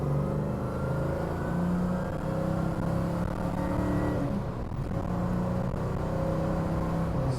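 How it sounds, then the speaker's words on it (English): A 1970 Chevrolet Chevelle SS with an LS6 big-block V8 pulling smoothly on the road at speed, a steady deep engine drone with a slowly rising pitch and road noise underneath, with no talking. "Smooth acceleration there, guys."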